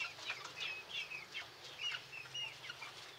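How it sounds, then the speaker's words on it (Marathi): Pure Gavrani laying hens on a poultry farm cluck and chatter in quick, repeated bursts, with occasional wing flutters, heard at low volume from a short distance. "आणि या ज्या अंडे देणाऱ्या कोंबड्या आहेत"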